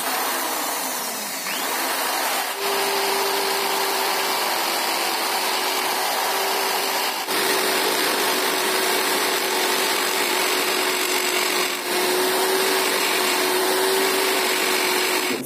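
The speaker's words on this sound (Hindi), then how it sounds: "अब हम इसकी करेंगे घिसाई" Continuous grinding on the cut end of a Pulsar 150 clip-on handlebar, a steady harsh whine with a faint tonal hum, held loud and close for the whole stretch with brief dips.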